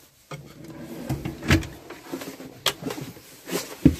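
A drawer in a 2017 Laika Kreos 4009 motorhome is opened and shut, giving several light wooden knocks and slides spaced over a few seconds, close by and without talking.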